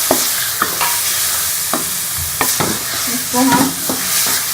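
Sweet corn kernels tossed into fried masala in a pan, stirred with repeated sharp scraping strokes over a steady close sizzle and frying hiss.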